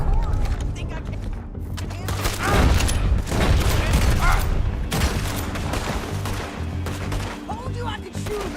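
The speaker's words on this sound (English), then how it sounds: "Told you I could shoot a gun, didn't I?" Gunfire in the video game Red Dead Redemption 2, a fusillade of repeated loud shots and booms spread across the whole stretch, with game voices speaking briefly among them.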